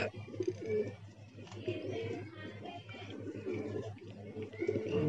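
Pigeons cooing close by, soft repeated throaty coos in a steady run with faint background noise.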